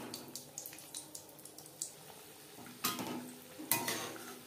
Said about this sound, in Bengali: তেল আমার গরম রয়েছে। এবার ভাজবো একেবারে লো ফ্লেমে।